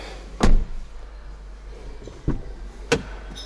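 Skoda car doors shut with a few dull thumps as people settle into the seats, one firm close near the start followed by two softer knocks, heard from inside the cabin without speech.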